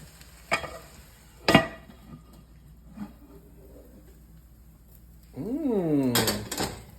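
Food flipped in a frying pan, with a few clinks of utensil on the pan, then a burst of loud sizzling frying near the end, no talk.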